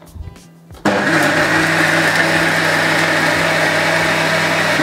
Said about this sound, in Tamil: கொஞ்சம் தண்ணி சேர்த்து அரைக்க போகிறேன்